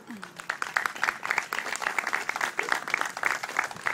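A crowd at a Veterans Day celebration applauds steadily with dense overlapping claps, fairly loud and continuous throughout, with a faint voice at the start.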